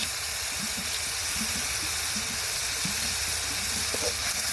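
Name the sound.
spice paste being fried (kosha) in a pan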